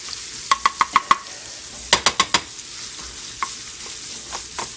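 Chopped sausage in hot olive oil and butter, a soft continuous sizzle broken by sharp rhythmic clicks of a utensil chopping and stirring against the pan, in two quick bursts and then scattered taps.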